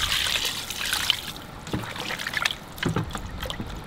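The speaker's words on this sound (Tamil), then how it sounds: "தண்ணி ஊற்றுங்க." Water poured into a pressure cooker holding mutton, a splashing, trickling stream near and fairly loud at first, then fading to softer sloshing and dribbles.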